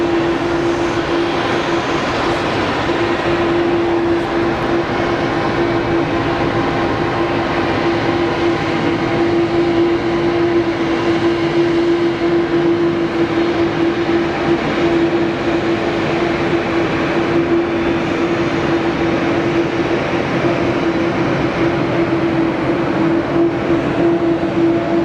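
An airliner taxis at Geneva Airport, giving a loud, steady engine whine over a broad continuous rumble that holds at an even level throughout.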